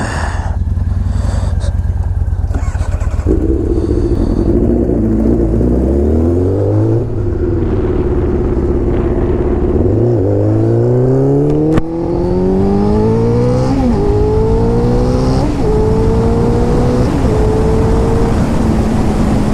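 Motorcycle ridden at speed, its loud engine close and continuous, pitch rising through gears in repeated climbs with brief shift dips, under strong wind rush and no talking.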